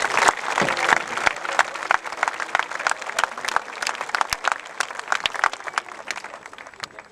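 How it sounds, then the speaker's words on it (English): A graduation audience claps steadily throughout, a dense patter of many hands that holds a fairly even level before thinning slightly toward the end. "Please join me in a round of applause."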